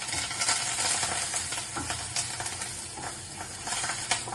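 Peanuts, mustard seeds and curry leaves crackle and hiss as they fry in oil, a dense, busy sizzle with scraping stirs and small pops throughout, heard close and without talk.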